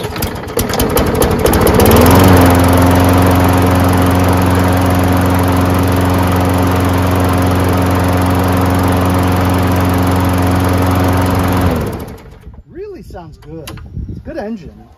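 Push lawn mower just washed, its small engine running loud and steady nearby for about ten seconds before cutting off, followed by quieter handling sounds.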